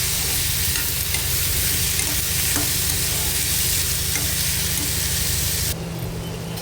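Chopped tomato is stirred into fried onion in a hot pan, giving a dense, continuous sizzle with faint spoon scrapes. The sizzle stays loud and close, then softens slightly toward the end.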